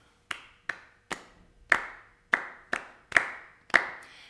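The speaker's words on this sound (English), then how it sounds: "How about we clap 2 times and then I'll start." Hands clapping in an evenly spaced sequence of about eight sharp claps, moderately near and alone with no voices.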